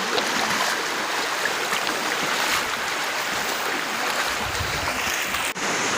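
Strong rushing water flows continuously with a dense, steady roar, close and loud, with no voices.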